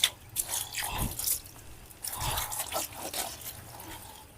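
Water splashes and drips while mud is washed off feet outdoors, coming in a few short bursts over a faint background hiss.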